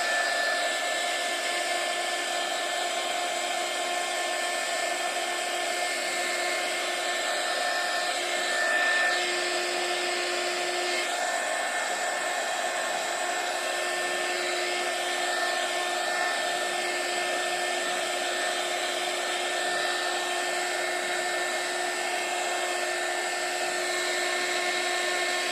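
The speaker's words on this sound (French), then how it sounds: "Donc pour ça, j'utilise mon heat gun." A heat gun blows steadily on ink stamped on a card, a continuous airy whoosh with a fixed motor whine that stays loud and even and never lets up.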